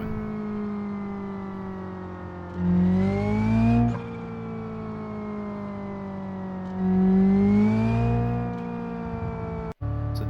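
A manual-transmission car in BeamNG.Drive revs up through two rising engine surges with steady idle drone between them, the tone climbing with each push of the throttle before settling, then a brief sharp click near the end.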